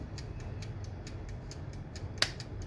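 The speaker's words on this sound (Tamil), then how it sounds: "உங்களுக்கு அந்த டிக் டிக் சவுண்ட் கேட்கும்னு நினைக்கிறேன்." Ticking timer on a retainer-making machine set for five minutes, a steady, fast tick about every eighth of a second, close and clear, with one louder sharp click near the end.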